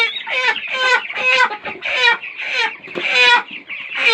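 Hens cluck close by in repeated rhythmic bursts, loud and clear with short pauses between calls and no talking.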